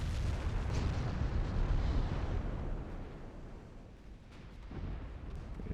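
Heavy naval gunfire from warships in the game Ultimate Admiral: Dreadnoughts, set in a 1913 French campaign. It rolls as a dense, continuous low thunder of overlapping booms that eases briefly near the end, then swells again, with no talking.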